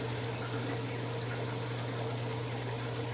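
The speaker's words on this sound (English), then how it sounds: "the water out of that thing is boiling" Water boils and churns inside the heater of a 540 gallon fish system, a steady close rushing wash over a constant low electrical hum, with no voices.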